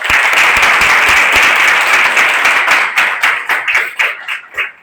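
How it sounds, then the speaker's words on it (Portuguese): An audience bursts into loud, dense applause for a presenter, sustained for a few seconds before thinning into scattered individual claps that fade out near the end. "uma salva de palmas para Maria."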